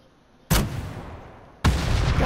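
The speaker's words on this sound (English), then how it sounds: "I'm gonna shoot the panzer at him." Panzerfaust rocket launcher fired in PUBG, two sharp loud blasts about a second apart, each slamming in abruptly and ringing out with a long rumbling tail.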